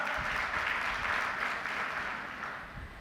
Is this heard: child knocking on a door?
no